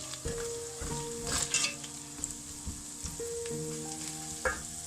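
Garlic, ginger, red chili powder, salt and turmeric frying in a pan for aloo methi, a steady close sizzle with stirring scrapes and a few soft utensil knocks, no voices.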